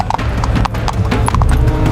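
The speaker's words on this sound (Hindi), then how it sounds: "अचानक बाजार में घोड़े के कदमों की आवाज गूंजी।" Horse hooves clip-clop steadily through a busy bazaar, close and loud, a continuous run of hoof strikes over a low background murmur.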